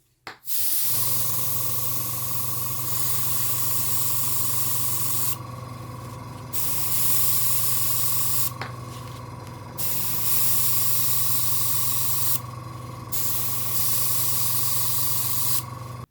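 Vallejo Model Color fluorescent magenta paint sprayed onto a model kit visor, an airbrush hiss in several long, even bursts with brief gaps, close and steady over a constant hum.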